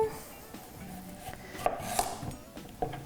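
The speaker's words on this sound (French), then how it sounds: "moi j'aime ça le couper en morceaux" A knife cutting fruit and vegetables into pieces for a green smoothie on a kitchen board, with a few scattered, irregular chops and light clatter at close range, and no talking.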